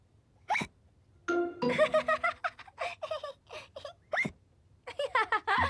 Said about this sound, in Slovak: George vypil džús príliš rýchlo a teraz štikúta.